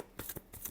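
A brief burst of tarot cards being shuffled, a few soft close flicks in under a second.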